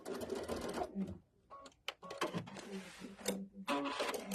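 An embroidery sewing machine stitches a seam on a quilted belt bag, a fast, loud mechanical chatter running steadily with brief pauses and no talk.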